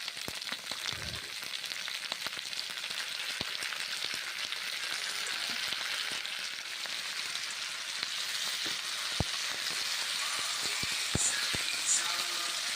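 Ground spice paste sizzles in a pan of mixed vegetables for a Bengali sabji, a steady, close, crackling fry that holds evenly throughout with no talk over it.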